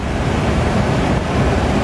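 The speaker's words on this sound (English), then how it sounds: "Man, look at these rapids." A rushing mass of river water from the Zacualpan River pours over a road toward San Blas, a dense, loud, unbroken roar close to the microphone.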